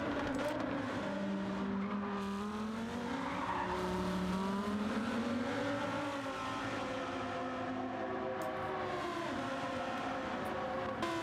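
Race cars, Toyota Corollas and Lamborghinis, circle Fuji Speedway in a sim racing game, their engines rising and falling in pitch as a close pack passes, loud and steady with occasional tire squeal, with no speech.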